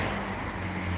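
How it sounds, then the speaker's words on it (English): Road traffic in an English village in Kent rushes past as a steady, broadband roar of passing cars that fills the whole moment, fairly close and loud. "Big rush of traffic."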